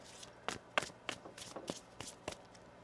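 Tarot cards shuffled by hand, a series of about eight crisp riffling snaps at a loose irregular rhythm, close and fairly quiet.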